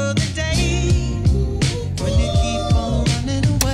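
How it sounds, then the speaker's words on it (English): A drum kit with a towel laid over the snare for a dulled, deadened backbeat, playing a steady groove inside a loud, full band mix with sustained tones. "You can also put a towel over your snare to get a different sound like this."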